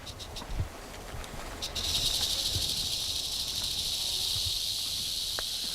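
A western diamondback rattlesnake's sustained high buzzing rattle starts abruptly up a creek and continues steadily at moderate distance over faint outdoor ambience.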